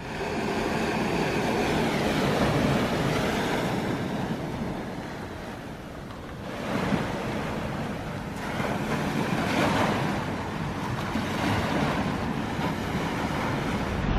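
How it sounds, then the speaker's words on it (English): Ocean waves roll onto the beach at Pescadero under strong gusty wind, a continuous loud roar of surf with wind buffeting the microphone throughout. "now I'm gonna try to get down on the beach and see if it's less windy down there."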